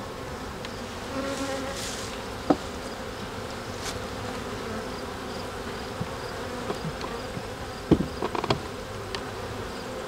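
A honeybee swarm hums steadily at a hive, a dense, even buzz close by with a few faint clicks and knocks, and no talking.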